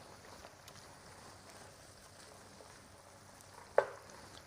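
Leftover seafood and oil hit a hot pan with a faint, steady sizzle and low frying hiss, broken by one sharp clatter near the end.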